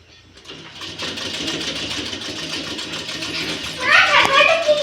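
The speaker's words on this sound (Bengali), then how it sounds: "পারছি তো, দেখবে আরেকটা সেলাই করব" A new tailoring sewing machine stitching at home, a steady close mechanical whir running throughout and growing louder near the end, with a voice and other voices heard over it.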